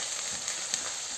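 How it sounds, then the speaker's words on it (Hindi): Bay leaf, cloves and black cardamom sizzle in hot oil with onions for dry, spicy urad dal. A soft, steady frying hiss with faint crackles runs the whole time, quiet and close. "ये तेज पत्ता और दो लौंग और एक मोटी इलायची, इसको भी इसी प्याज में डाल देती हूँ भूनने के लिए"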